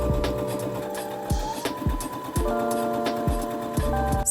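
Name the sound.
sewing machine stitching a dart in dress fabric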